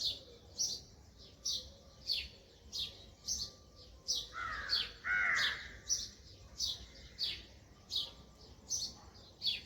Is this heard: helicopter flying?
no